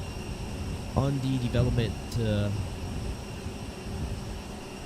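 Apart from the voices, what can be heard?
A320neo airliner engines in video game Microsoft Flight Simulator 2020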